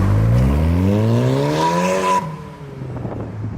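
A stage 1 remapped VW Polo GTI with the rear exhaust box coming off gives a loud, close fluting exhaust note, a rising whistle-like tone that holds for about two seconds before dropping away to a rougher, quieter rumble.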